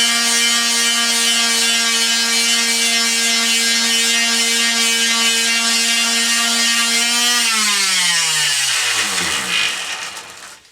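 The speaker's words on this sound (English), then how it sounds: "I used the sander up on this end" A power tool sands a wooden axe handle with a loud, steady, high-pitched motor whine held close by for several seconds, then winding down sharply as it switches off near the end.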